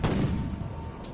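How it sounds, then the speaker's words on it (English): A light-gas gun fires a small glass bead into a vacuum chamber, producing a single short booming report that fades quickly, heard alone without speech. "When it goes off, it will fire the projectile 10 times faster than your average bullet."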